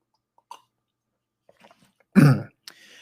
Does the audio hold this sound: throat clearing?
yes